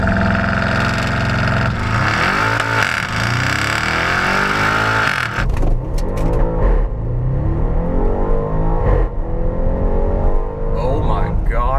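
An Audi RS7 Performance on launch control: the engine holds a high, steady rev at the line, then drops and surges hard as the car launches and accelerates away, loud and close with gear changes.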